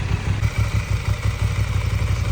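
A motorcycle engine chugs nearby in a steady, rapid low throb with light mechanical clatter, loud and continuous with no voices.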